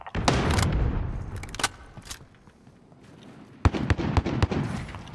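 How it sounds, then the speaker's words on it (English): Cruise missile strike explosions in a video game come as sharp, crackling bursts in two clusters, loud and close, separated by a quieter rumbling gap. "Cruise missile for launch."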